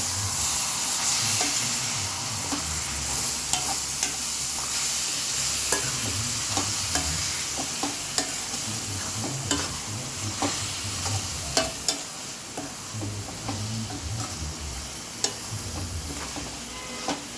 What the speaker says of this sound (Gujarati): આપણે પાલકને હલાવી દઈશું સારી રીતના